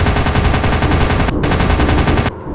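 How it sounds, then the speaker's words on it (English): Rapid machine-gun fire in the aerial combat game Warplane Online Combat, a loud, close, continuous burst of rattling shots with a brief pause midway before firing resumes and cuts off near the end. "I'm under fire!"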